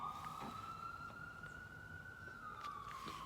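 A wailing emergency siren sweeps steadily up and down, sustained and moderately distant, with faint traffic underneath and no talking.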